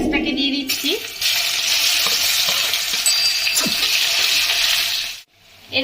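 Onion hitting hot oil with sugar and whole garam masala in a pan for a Bengali crab curry, a loud continuous sizzle with occasional stirring scrapes that cuts off sharply near the end.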